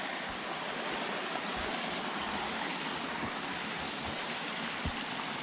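Stream of water flowing across a hiking trail on the Mt Kinsman and Reel Brook trails, a steady close rushing wash with no gaps.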